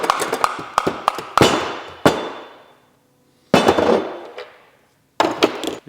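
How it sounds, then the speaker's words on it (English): Sharp plastic hammer blows strike in bursts on parts of a Mitsubishi Lancer Evolution VIII, several quick hits ringing out and decaying, separated by short pauses, close and loud. "Grab a plastic hammer."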